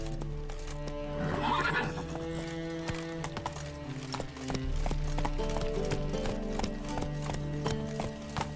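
In The Witcher 3 video game, a horse's hooves clip-clop in a steady galloping rhythm while it neighs loudly early on, with background game music running underneath.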